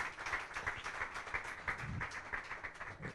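An indoor audience at a futsal event applauds steadily for a person being introduced, a dense, continuous patter of many hands clapping at moderate loudness throughout.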